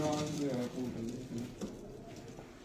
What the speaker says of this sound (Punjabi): ਇਹ ਬੜਾ ਸ਼ਾਨਦਾਰ ਕਬੂਤਰ ਹੈ ਜੀ